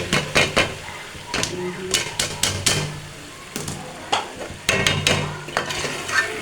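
Green beans fry in a pan for homestyle aloo phaliyan while a utensil stirs and scrapes in repeated clattering strokes, close and fairly loud, with a steady sizzle underneath.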